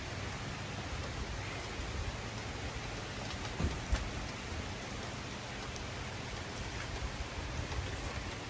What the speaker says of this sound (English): we're getting dumped on with rain